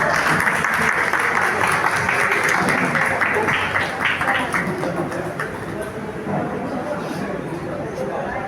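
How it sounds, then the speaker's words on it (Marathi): Loud applause from an audience at an award and felicitation ceremony, dense clapping that gradually thins and fades, with a voice speaking over it. "जोरदार टाळ्या वाजवल्या।"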